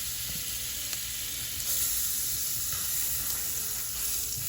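A tablespoon of butter melts in a skillet for a Cajun shrimp and sausage vegetable dish, producing a soft, even, steady sizzle and hiss with no talking.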